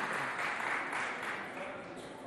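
Audience at a school competition between two colleges claps loudly for an arriving contestant, a continuous broad wash of applause that fades slightly toward the end, with some voices mixed in.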